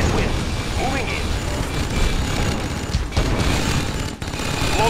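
Rapid gunfire from units in the Mental Omega real-time strategy game crackles continuously in dense bursts, mixed with mechanical noise and occasional booms, loud and close throughout.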